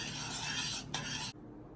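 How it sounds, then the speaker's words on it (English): A spoon stirs thickening sugar syrup for khadaif as it cools, making a steady close scraping swirl that briefly pauses, then stops abruptly, leaving only faint room noise. "we're going to keep stirring until it cools down so it doesn't get crystallized"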